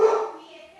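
A dog gives a single sharp bark indoors, close and loud, then the sound trails off quickly into a brief whimpering tail.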